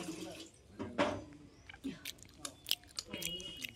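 Someone eats homemade fire-grilled chicken shikh kabab with chutney, with soft close chewing and biting sounds, a few sharper crunchy bites, and faint background noise.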